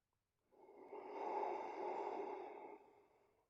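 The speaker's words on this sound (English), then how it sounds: "2 more breaths here." Slow, deep breath through the nose during a gentle yoga class, a single long airy exhale swelling and fading over about three seconds, close and soft with no talking.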